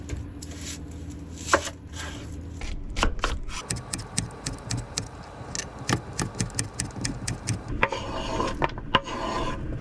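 A knife chops tomatoes for salsa at a hilltop van campsite, striking the board in a quick, regular series of close, crisp thunks. Slower scraping and rasping cuts come before and after the run of chops.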